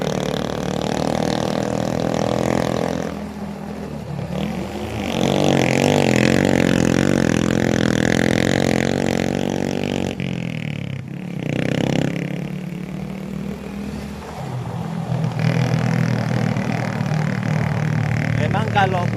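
A motorcycle engine revs and strains while climbing an uphill plantation track, rising and falling in pitch with throttle changes, loud and close, with someone talking over it throughout.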